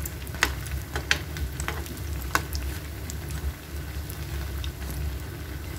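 Golibaje batter, also called Mangalore bonda, fries in hot oil with a steady, even sizzle and scattered sharp pops and crackles, close and unbroken, with no talking.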